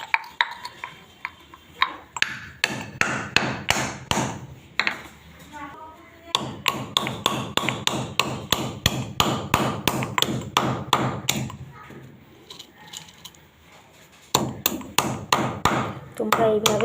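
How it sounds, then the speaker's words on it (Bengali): Repeated hand pounding of a mortar-like material being crushed into powder, sharp rhythmic taps and thuds in bursts with short pauses, close and loud. "তো মুচিবাতিটাকে আমি এইভাবে গুঁড়ো করবো।"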